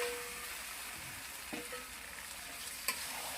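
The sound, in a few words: meat and spices frying in a pan for spicy chicken curry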